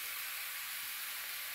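Sliced eggplant frying in a pan over low heat gives off a steady, soft hissing sizzle, faint and even throughout with no voices.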